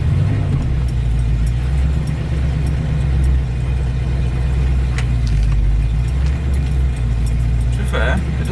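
A Ford Mustang engine runs steadily while warming up, a close, even low rumble that holds for the whole stretch with light clicks and rattles on top.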